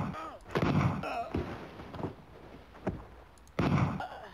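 Gunshots ring out in the DOS game Mad Dog McCree as several loud, booming reports spaced a second or two apart, with the last blast following a short lull.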